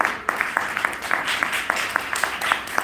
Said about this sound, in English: You should give a round of applause for that.